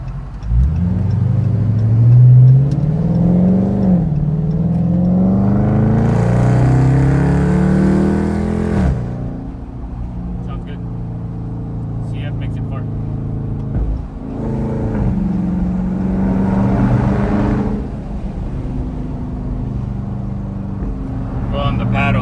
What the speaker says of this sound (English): let me put it on sport mode, see if I can get out of here and let you hear the car a little bit from the inside